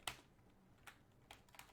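Light keystrokes on a computer keyboard while code is typed: a few separate taps spaced irregularly, soft and close in a quiet room.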